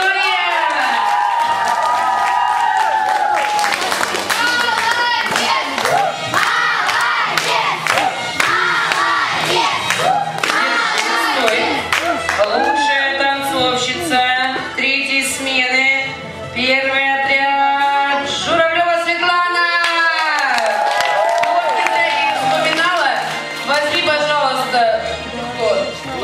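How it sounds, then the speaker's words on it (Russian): Summer camp award ceremony audience applauding and cheering loudly, with children shouting and clapping in a dense crowd roar that swells and dips over the whole stretch, and voices calling out amid the noise. "Аплодисменты Ярославе"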